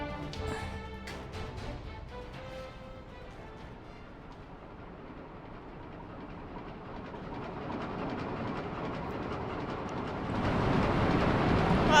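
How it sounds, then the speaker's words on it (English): Final Fantasy XIV monorail ride: a steady low rumbling roll with faint rhythmic rail clatter and game music on top, building to a louder surge near the end. "Oh, it's a monorail."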